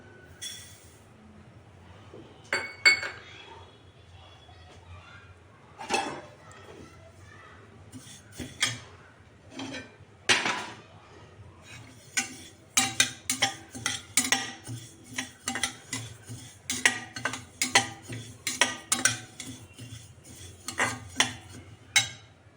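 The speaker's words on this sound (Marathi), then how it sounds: "आता आपण ही तीळ भाजून घेऊया" Sesame seeds dry-roasting in a pan are stirred with a utensil, making repeated close clinks and scrapes that quicken in the second half, with voices talking in the background.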